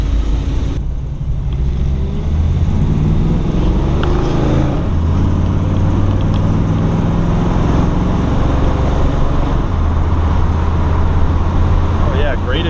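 A 1961 Chevrolet Biscayne restomod with a 283 V8 accelerates on the road, a loud steady engine drone rising through the gears from inside the car, with constant road rumble beneath it.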